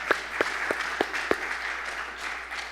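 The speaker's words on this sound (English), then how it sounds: "Yes, you can clap for that." An audience clapping, with a few sharp, evenly spaced claps standing out over a softer wash of crowd noise that continues after them.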